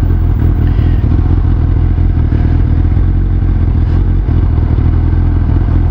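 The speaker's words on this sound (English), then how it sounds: "pleasant ride when it comes to the sound of the exhaust, the sound of the engine" A 2002 Suzuki GSX1300R Hayabusa under way gives a loud, continuous engine and exhaust drone mixed with rushing wind and road rumble, steady throughout with no voices.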